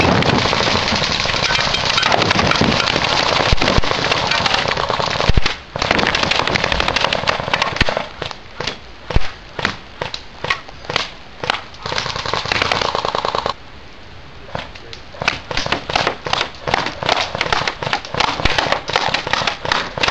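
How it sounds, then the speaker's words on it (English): Airsoft guns, a Galaxy MP5K and a Double Eagle M56C, fire at a soda can in bursts of rapid, sharp clicking shots, with a long continuous stream early on, a brief pause, then repeated short volleys. No one speaks. "I will be shooting at this with my Galaxy MP5K"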